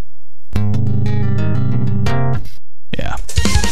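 A bass guitar plays dry in mono for a mix of a track, with a run of sustained, rich low notes for about two seconds that then stop sharply, followed by a brief voice at the end.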